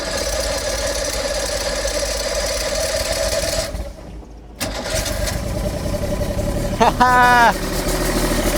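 A damaged boat engine bought at auction fires up on its own fuel and settles into a loud, steady idle, briefly dropping out midway before catching again, while a person laughs near the end.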